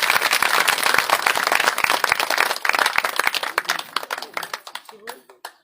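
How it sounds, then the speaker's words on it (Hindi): An indoor audience at an International Women's Day women's gathering breaks into loud, dense clapping that holds steady, then thins out to a few scattered claps and stops. "जोरदार तालियां एक बार बजा दीजिए आप सभी।"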